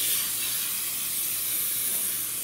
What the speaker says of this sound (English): We spray it with Pam.